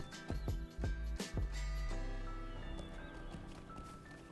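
Horse hooves clopping in The Lord of the Rings Online, a few heavy thuds in quick rhythm at first, then fading into a steady softer run under game music.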